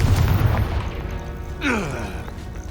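A Confringo fire spell bursts in Hogwarts Legacy during a wizard duel, a single booming explosion with a sweeping whoosh that rises above steady game background noise.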